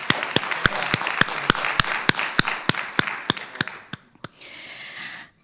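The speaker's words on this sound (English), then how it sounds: "So I'd appreciate it if you could just give Chris a round of applause for this great work." A conference audience applauds, while one close pair of hands claps sharply in a regular rhythm over the softer crowd. The nearby claps slow and stop, leaving a brief hushed tail of applause.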